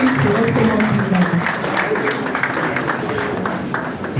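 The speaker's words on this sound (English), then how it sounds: "Please, can we applaud the president as he takes his leave?" An audience applauds as the president leaves an engineering society's branch event, a dense, steady wash of clapping mixed with crowd murmur and some voices.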